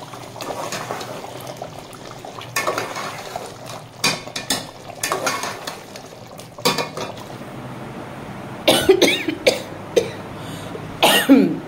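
Several short coughs from a cold in bursts, spread across the clip, over faint kitchen clatter of utensils and pans while chicken karahi cooks; no talking.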